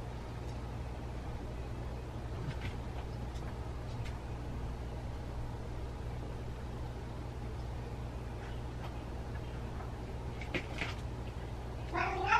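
A house cat near a self-cleaning litter box meows a few times, faint and scattered over a steady low hum, with a louder, drawn-out meow at the very end.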